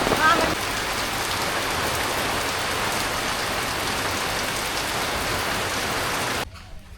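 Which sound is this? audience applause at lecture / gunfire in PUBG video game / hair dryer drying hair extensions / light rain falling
light rain falling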